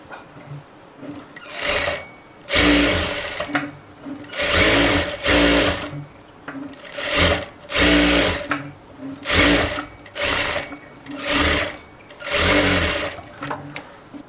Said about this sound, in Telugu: ఇలా కుట్టు వేసేసుకుందాం. ఓకేనా, దూరం కుట్టు పెట్టి.